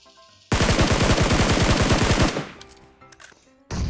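Rapid automatic gunfire in the mobile battle royale game PUBG Mobile, a loud sustained burst of evenly spaced shots lasting about two seconds, followed by scattered fainter clicks and a second burst cutting in at the end.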